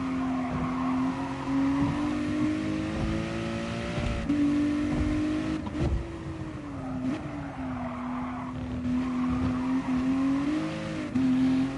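A racing car in a time-trial video game drives laps with a steady, loud engine drone that rises and falls with gear changes, while tires squeal and skid through the corners. The engine runs continuously across the whole stretch.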